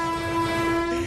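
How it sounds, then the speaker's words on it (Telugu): Train approaching with a loud sustained horn blast, a steady harmonic tone over rumbling wheels, close and continuous for the whole second with no voices. "కొంచెం దగ్గరలో ట్రైన్ కూడా దగ్గరికి వస్తుంది"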